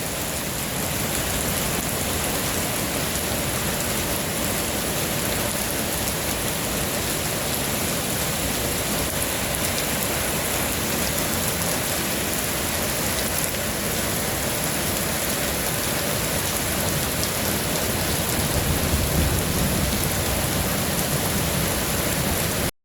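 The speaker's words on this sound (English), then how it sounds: "Hey look, Phoenix actually gave us some rain." Rain falling at night in Phoenix, a dense, steady hiss of downpour that stays loud and even for over twenty seconds with no distinct thunderclaps standing out.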